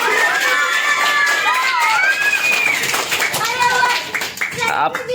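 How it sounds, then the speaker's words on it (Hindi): A group of children clap together, the dense patter running steadily for about five seconds at close range, mixed with loud overlapping children's voices shouting and cheering throughout. "अरे वाह, ताली बजाओ फिर से।"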